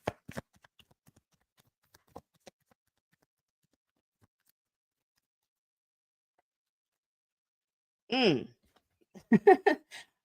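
Tarot cards are shuffled in a quick riffle at the start, followed by a few sparse soft taps and a long quiet gap, before a voice speaks near the end.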